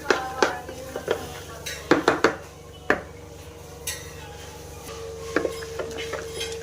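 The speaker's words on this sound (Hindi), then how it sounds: "इस तरह से हमने अच्छे से मिक्स कर लेना है।" Chicken coating for steam broast being mixed in a bowl: clattering knocks and scrapes of a utensil against the dish in irregular bursts, fairly close, with no voices.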